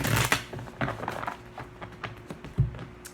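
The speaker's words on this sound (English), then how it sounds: "one more shuffle" A deck of tarot cards is shuffled, making a quick burst of papery riffling and soft tapping clicks that thin out into scattered light taps near the end.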